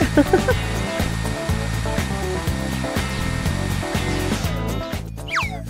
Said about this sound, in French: Séchons-lui les cheveux avec ça.